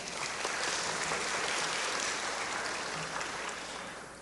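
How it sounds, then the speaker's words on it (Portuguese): Audience applauding in a state legislative assembly hall during a formal session, steady dense clapping held at an even level for several seconds before easing slightly at the end. "Uma salva de palmas."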